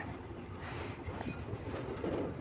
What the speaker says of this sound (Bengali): বলতে বলতে ট্রেনটি চলতে শুরু করেছে।